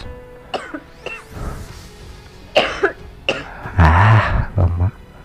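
Several harsh coughs and throat-clearing bursts come close by, in irregular fits over a few seconds with short pauses between, loud and raspy, with no clear speech.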